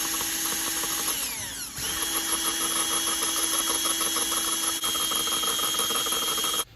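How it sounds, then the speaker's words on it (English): A power drill bores steadily into a broken turbo exhaust manifold bolt, a loud continuous whine with a brief dip in pitch partway through before it resumes, close up and without any talk. "Whenever you're drilling anything, it doesn't hurt to use like some oil or something like that to keep your drill bit cooler"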